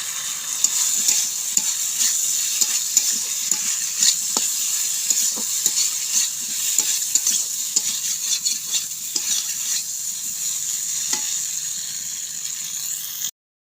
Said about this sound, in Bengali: এরপর ভেজে রাখা আলু পটল দিয়ে দেব।